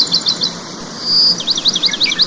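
Cartoon-style birds in a dense forest chirp in quick, bright repeated bursts over a faint insect-like buzz, with no voices.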